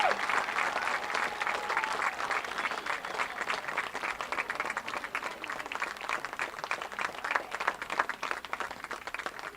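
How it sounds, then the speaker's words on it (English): Crowd at a men's lacrosse conference championship applauds the tournament team, a steady, moderately distant patter of many hands clapping throughout, without speech. "Let's have another round of applause for these fine student athletes for our 2024 All-ODAC Tournament Team."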